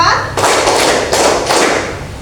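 A standing classroom of seventh-grade students claps together in a counted rhythm, a few loud, ragged bursts of many hands spaced out, with a murmur of children's voices underneath.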